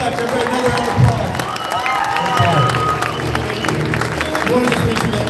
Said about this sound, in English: Everybody, another round of applause.